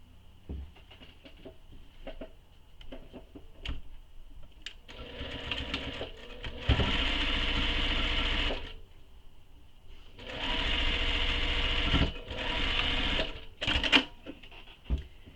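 A sewing machine runs in several short bursts while basting fabric for a tote bag panel, with quiet handling clicks and rustles between runs, close up and with no talk.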